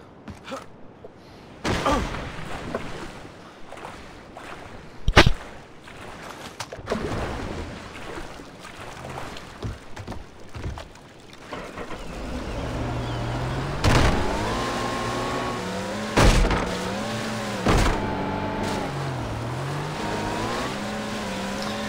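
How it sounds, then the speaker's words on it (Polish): A jet ski in the video game Far Cry 3 runs steadily across water, its engine whining and revving with rising and falling pitch, loud and continuous with brief sharp bursts. "Chodźmy po skuter, sobie popłyniemy"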